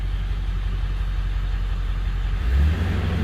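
A Ford 7.3 Powerstroke diesel engine runs steadily at high idle, a loud continuous rumble with a brief low surge near the end and no voices.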